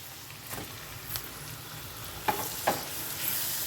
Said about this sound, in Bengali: চালটা দিয়ে কয়েক মিনিট আমি নাড়াচাড়া করে নেব